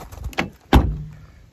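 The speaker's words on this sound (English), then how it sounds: "It's a much firmer shutting sound, much more solid dunk." A Mazda MX-5 door, fitted with new door bushings, swings and shuts with a firm, solid thud, preceded by a lighter latch click and followed by a short fading rattle, close by.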